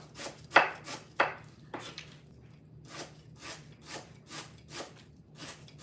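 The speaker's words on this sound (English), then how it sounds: "You hear that sharp knife? It just one penetration, it cut through all of these fibers." A sharp knife chops fibrous spice-paste ingredients (lemongrass, kaffir lime, garlic, turmeric, galangal) on a board, about a dozen crisp, close chops in an uneven rhythm with short quiet gaps between them.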